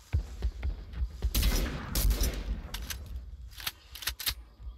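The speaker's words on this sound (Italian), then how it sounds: "Ah, spara con quel cannone lì," Cannon fire in a naval-battle video game: a series of sharp booming blasts and bursts of gunfire, loud and close, clustered through the middle and again near the end.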